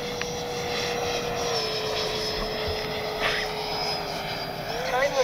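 A Freewing JAS-39 Gripen RC jet flies a pattern overhead with its gear down, giving a steady whine with a sustained tone that holds for several seconds and rises slightly at the end, under continuous outdoor noise.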